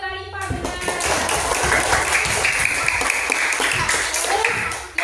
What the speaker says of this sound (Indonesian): Ya, tepuk tangan buat Alifa benar.